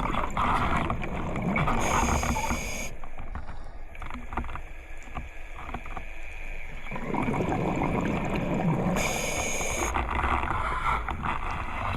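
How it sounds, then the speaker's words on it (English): A boat's motor drones overhead, heard from underwater while scuba diving off Guernsey's east coast, a muffled continuous churn that swells and fades, with bursts of bubbling breath noise from the diver's regulator. "Good thing is I can still hear Matt motoring around above me"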